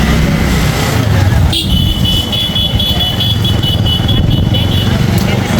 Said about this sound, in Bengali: পিছনে গাড়ি আসছে।